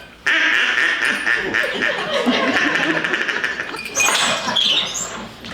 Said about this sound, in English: Oh, a duck with a harness on?